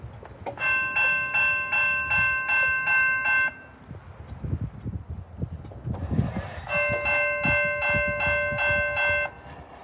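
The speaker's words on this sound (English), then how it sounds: "the bell sequence is in a way that allows me just to lift up the gate and test each bell individually." Railroad crossing bells, including a mast-mounted one, ring during signal testing. Two bursts of rapid, evenly spaced metallic strikes are separated by a short pause filled with low background noise.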